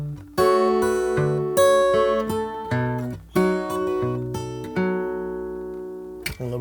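Solo fingerstyle acoustic guitar plays two measures of a song, a G then an E, as clear plucked notes and ringing chords in a lilting rhythm, close up and alone, ending with a final strum.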